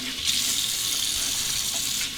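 A bathroom tap runs hot water in a steady, even hiss close by, continuous for the whole stretch with no talking, as a man warms his face before shaving.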